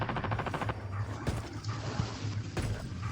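A dog barks in a video game, with several sharp barks and yelps standing out over constant game background noise and low hum, fairly loud and close.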